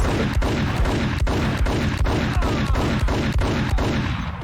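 Dual Colt pistols fire in the video game Max Payne, a rapid, loud, steady stream of gunshots at about three per second with no talking.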